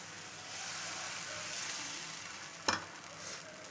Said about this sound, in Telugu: కొంచెం థిక్గానన్నా కొంచెం సన్నగానన్నా వేసుకొని ఇట్లా దోశలాగా తిప్పుకోవాలి